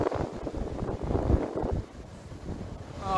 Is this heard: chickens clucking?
no